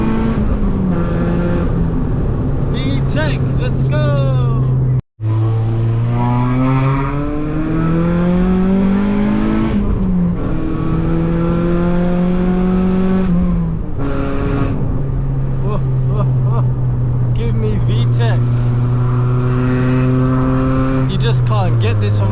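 A Honda Civic engine revs hard into VTEC on a sunny country B road, its loud rising whine climbing through the gears, dropping briefly at a shift and then climbing again, up close with faint talk.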